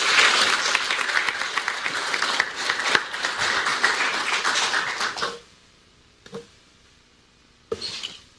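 Audience applause at a Korean presidential candidate's press conference: dense, loud clapping that swells for about five seconds and then stops abruptly, followed by near silence and a few scattered claps.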